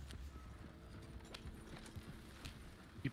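Horse hooves clip-clopping in Red Dead Online, a steady rhythmic series of soft nearby hoof strikes over low game ambience, with a brief louder thump at the end.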